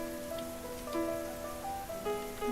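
Continuous rain patters in the video game Fausts Alptraum, a steady even wash under soft, sustained musical tones.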